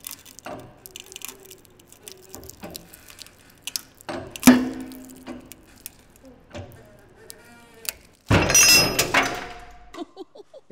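An egg being crushed in a hydraulic press: scattered small knocks and creaks lead up to one loud, sharp cracking burst near the end, close and clear.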